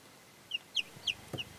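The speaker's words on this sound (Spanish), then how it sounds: "ya vemos como los dos pollitos están cada vez más espabilados, cada vez más fuertes" Newly hatched chicken chicks in an incubator give a few high, thin peeps, about five short chirps spaced irregularly, fairly faint against a quiet background with a soft low bump among them.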